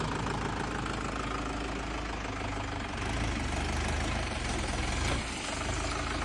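A Mahindra 50-horsepower tractor engine runs at a steady idle, with a continuous close, even rumble and no talk over it.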